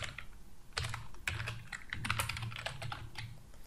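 Quick bursts of typing on a computer keyboard, close and crisp, with clustered key clicks and short pauses between runs.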